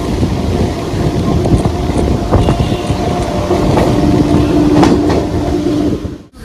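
Local train running on tracks, a steady loud rumble with clickety-clack wheel beats and a few sharp metallic squeals, continuous until it cuts off at the end.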